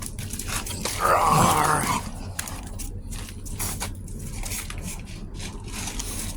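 A pet dog growls and barks during play inside a garage home, a loud rough burst of vocalizing followed by softer scuffling and muffled movement.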